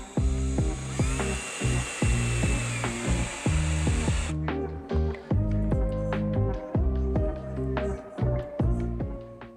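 A power drill whines in short repeated bursts, starting and stopping in an uneven rhythm, close by with a steady background hiss.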